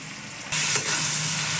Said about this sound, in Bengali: টমেটো কুচিটা একটু হালকা লবণ দিয়ে একটু ভেজে নেব